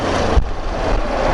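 Loud, close engine drone of a Suzuki Address 125cc scooter riding uphill under load, steady and throaty with a brief dip partway through.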